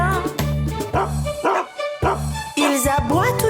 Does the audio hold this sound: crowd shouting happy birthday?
no